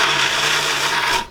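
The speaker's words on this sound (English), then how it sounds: "So now I'm just gonna use the old immersion blender and blend this stuff up." An immersion blender whirs steadily through food in water on a low setting, a loud, continuous buzzing hum that holds for about a second before cutting off.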